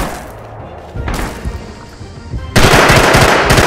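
Howitzer shelling in the war game Rising Storm: heavy, booming blasts arrive in rough waves, growing into a dense, loud run of rapid impacts at the end.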